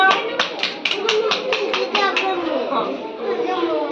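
Children clap their hands together, about ten quick evenly spaced claps in a steady rhythm, then stop as talking and children's voices carry on.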